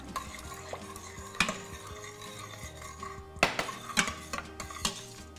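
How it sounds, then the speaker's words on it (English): A spoon stirs sloppy joe mixture thickened with cornstarch in an Instant Pot on the saute function, scraping and clinking against the metal pot in an uneven rhythm, with a faint sizzle underneath and a few sharper knocks near the end. "So you want to just keep stirring and let it come to temperature."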